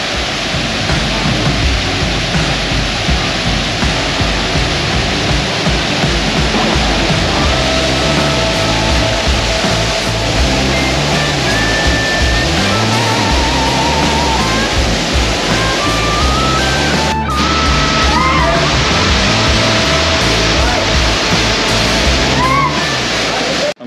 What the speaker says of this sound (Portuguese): chegamos aqui na cachoeira Ronca e Funga